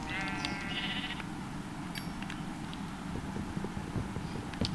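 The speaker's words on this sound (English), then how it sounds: "Oh, sheep!" A sheep bleats in the video game Minecraft, one short wavering bleat near the start over a busy background of in-game ambience and footstep-like clatter, with a couple of faint higher blips later.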